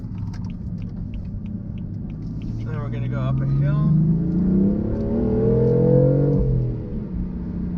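A 2015 BMW M3 with a manual gearbox drives along, its engine rumbling steadily and swelling louder as it climbs a hill, with someone talking over it throughout.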